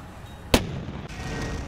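A single sharp gunshot from a tank or anti-tank gun in the turn-based strategy game The Troop, a loud crack followed by a short rumbling tail under steady background ambience, no talk.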